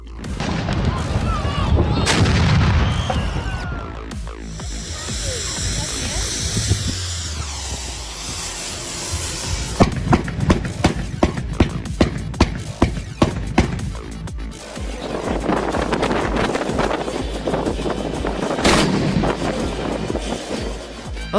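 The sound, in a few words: carbide cannons exploding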